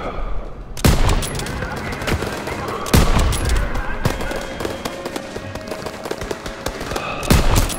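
Gunfire in Call of Duty WW2, bursts of loud close shots and rapid firing with sharp cracks recurring through the scene, while a player talks over the combat.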